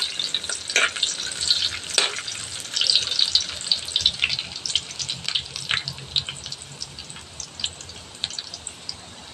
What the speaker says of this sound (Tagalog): Mag-isa muna tayo ng bawang at sibuyas.